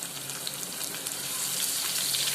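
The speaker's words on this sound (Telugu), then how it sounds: "చక్కగా ఎర్రగా వేగనివ్వండి" Onions frying in a pan for pesara dosa, a steady close sizzle with crackling that holds even and continuous throughout, no voices present.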